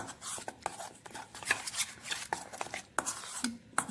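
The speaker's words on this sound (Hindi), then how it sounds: "अभी इस बैटर को मैं बहुत ही अच्छी तरह से मिक्स कर लूँगी" Spiced batter for tandoori chicken, seasoned with red chilli and salt, being mixed vigorously in a bowl, with close scraping, clinking strokes repeating in an uneven rhythm and no talking.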